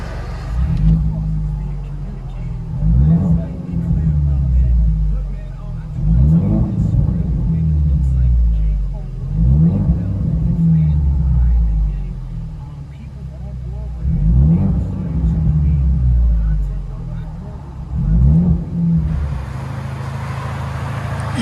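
Turbocharged four-cylinder 2017 Ford Mustang EcoBoost with straight-piped dual exhaust, heard from inside the cabin, revving in about five repeated surges that rise and fall, deep and rumbling, with a short burst of broadband noise at the end.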